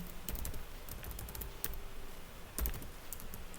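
Someone types a touch command on a computer keyboard in an Ubuntu terminal under WSL, a quick irregular run of soft close key clicks with short pauses.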